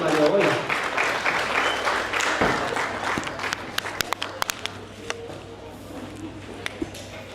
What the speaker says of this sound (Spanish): Un aplauso también para el hermano Lee